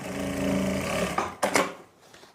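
A sewing machine stitches elastic onto fabric, giving a short, fairly quiet whirring run followed by a few sharp clicks and taps as it stops.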